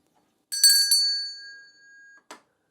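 A bright bell-ring sound effect chimes twice in quick succession and sustains briefly, followed by a faint tail and a short final ding, all alone with no talk.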